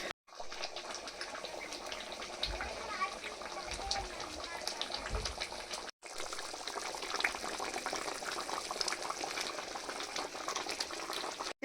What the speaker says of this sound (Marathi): एक नंबर मस्तपैकी उकळे आले मित्रांनो